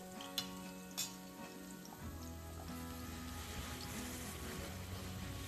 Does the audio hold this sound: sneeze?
no